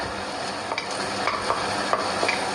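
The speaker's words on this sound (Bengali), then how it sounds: "এরকম ভালো করে নাড়াচাড়া করে দেখেন পেঁয়াজটা হয়ে গেছে আমার" Chicken and onions frying in a pan and being stirred: a steady close sizzle with a few sharp spatula scrapes and clinks against the pan, no voices.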